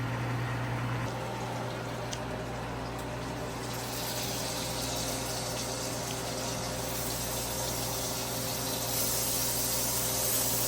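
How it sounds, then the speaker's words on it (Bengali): Pieces of pointed gourd (potol) fry in hot oil after prawns were fried in the same pan, giving a steady, even sizzling hiss that runs without pause throughout. "ওদিকে চিংড়ি মাছগুলোকে ভেজে নেওয়ার পর পটলগুলোকে আমি এক এক করে ভেজে নিচ্ছি"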